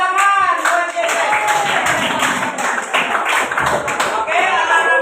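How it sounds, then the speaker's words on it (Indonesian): Audience at a school bullying-resilience session claps for a student named Jesek, a steady burst of hand claps with voices and chatter mixed in throughout. "Tepuk tangan buat Jesek."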